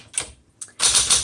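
A 1968 Smith Corona Super Sterling manual typewriter clacks through a few close, crisp keystrokes, two separate taps followed by a quick cluster of strikes.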